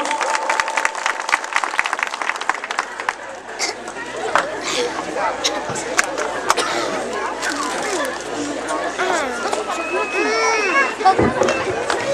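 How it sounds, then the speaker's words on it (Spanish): A crowd at an outdoor inauguration festival for a newly paved village road claps and cheers loudly in a busy scattered wash, with chatter and voices heard throughout. "A ver que se escuchen esos aplausos."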